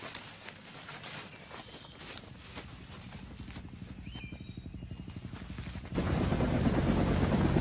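Steady rhythmic thumping of helicopter rotors, distant at first and then growing louder and closer near the end.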